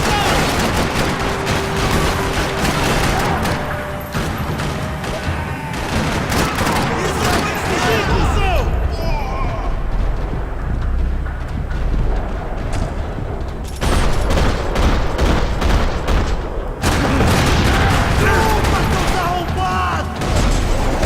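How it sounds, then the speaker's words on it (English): Dense bursts of rapid gunfire and booms in the game Max Payne 3 rattle on and off in a parking lot, loud and close, with sharp shots layered over rumbling explosions. "Another parking lot rattling with gunfire."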